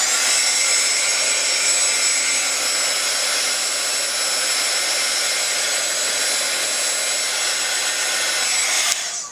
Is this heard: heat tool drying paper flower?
yes